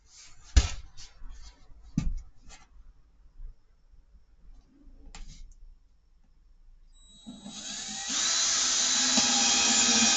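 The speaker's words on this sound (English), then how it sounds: "Did have my drill here." A power drill whirs up loudly and steadily near the end, driving wood screws into wood for a home flight-sim throttle pedestal, after a few sharp knocks and handling clatter at the start.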